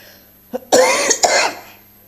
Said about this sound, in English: Oh, you know this cough.